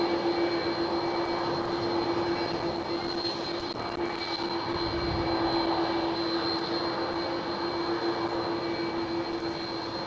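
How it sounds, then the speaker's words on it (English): KLM Cityhopper Embraer E175 taking off on runway 24 at Amsterdam Schiphol, a steady distant jet roar with a constant whine, sustained throughout without speech. "a KLM Cityhopper E175 is going for it on runway 24"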